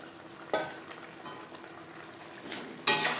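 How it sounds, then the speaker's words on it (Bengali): Fried fish heads are stirred with spice masala in a pan for a fish-head moong dal, a soft close sizzle broken by a few sharp scraping stir strokes. "মশলার সাথে মাছের মাথা 2-3 মিনিট নাড়াচাড়া করে নেব।"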